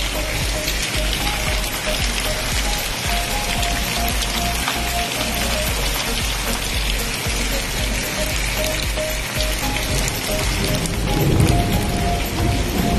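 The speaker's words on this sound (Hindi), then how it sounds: "बारिश बहुत ज़्यादा हो रहा है गाइस।" Heavy rain falls steadily close by during a thunderstorm, a dense, unbroken hiss and patter lasting throughout with no talk, swelling slightly near the end.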